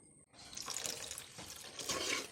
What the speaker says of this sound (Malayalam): ഇനി നമുക്കിതിലേക്ക് പാകത്തിന് വെള്ളം ചേർക്കാം